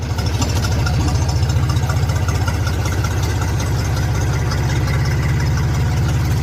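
A tractor engine runs loud and steady in third gear, a deep rhythmic diesel throb that stays constant and close throughout.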